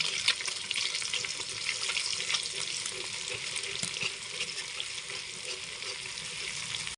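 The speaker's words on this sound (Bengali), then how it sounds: "পরিমাণ মতো লবণ দিয়ে দেব, দিয়ে এখন ভালো করে নাড়াচাড়া করতে থাকবো।" Broken rice with salt being stirred in an oily pan gives a steady, close frying hiss and sizzle, with faint scraping that runs evenly throughout and no talking.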